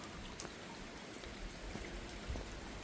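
Steady light rain falls outdoors, a soft continuous patter of drops on surfaces with a few louder individual drips, faint and unbroken throughout.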